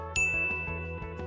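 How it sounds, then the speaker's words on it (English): A bright notification bell ding rings out once, clear and close, its chime sustaining and slowly fading over a soft musical backing, with no talking. "hit the notification bell"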